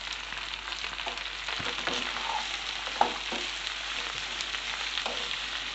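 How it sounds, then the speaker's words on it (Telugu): Onions with curry leaves and salt frying in a pan for an onion egg curry, giving a steady close sizzle with a few soft stirring scrapes and one sharp clink near the middle. "ఇవి మంచిగా ఫ్రై అయ్యే వరకు ఫ్రై చేసుకుందాం."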